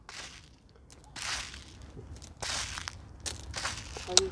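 Nutricote slow-release fertilizer granules are scattered by hand, giving several faint, crunchy, rustling bursts separated by quieter gaps.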